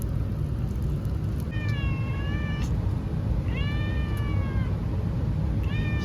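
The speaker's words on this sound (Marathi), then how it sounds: "पिल्लं दाखवतो तुम्हाला मांजरींची" Kittens give three clear, drawn-out meows spaced a second or so apart, each rising then falling in pitch, over a steady low rumbling background.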